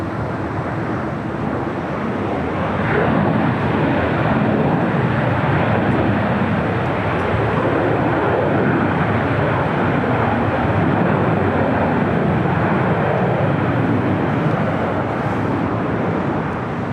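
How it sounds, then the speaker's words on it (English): Boeing 737-800 airliner of United Airlines arriving at LAX from Austin, a steady, loud broadband engine roar that swells slightly after the first few seconds and holds for the full stretch without speech. "That was United Airlines Flight 502 coming in from Austin, Texas, the 737-800."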